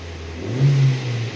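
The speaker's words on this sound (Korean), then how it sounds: "자, 그럼 여기서 엑셀을 한번 세게 밟아 보겠습니다." Car engine with a misfire fault revving hard as the accelerator is pressed, a steady idle rising into a loud sustained rev before easing back down, heard alone up close.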